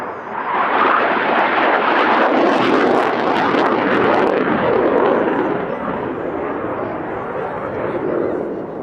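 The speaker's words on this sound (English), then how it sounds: "The Typhoon commences its full solo display." Eurofighter Typhoon fast jet in black special display livery flying a solo routine at an air festival, a loud sustained roar of jet engines that swells and stays strong, with the rumble carrying and slowly easing off.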